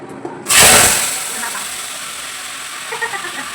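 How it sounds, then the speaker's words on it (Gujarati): A sudden loud sizzle bursts out as buttermilk tempering is poured into hot oil, then settles into a softer, steady hiss that slowly fades. "આપણે છાશનો વઘાર નાખી દેવાનો છે"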